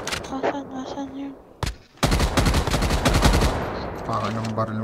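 Rapid bursts of gunfire from a shooter video game during a live stream, loud and dense in the second half, with players talking over the shots.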